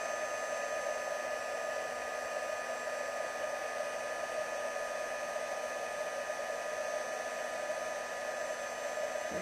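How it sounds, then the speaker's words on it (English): A heat tool blasts hot air over an embossed stamped image to melt the powder glossy, a steady, loud, even whooshing drone with a high whine that runs unbroken throughout. "so now we're just going to heat this with our heat tool"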